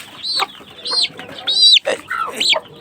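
A hen clucks to her incubator-hatched chicks, giving a series of short, close, repeated calls in an irregular rhythm that stand alone without talk.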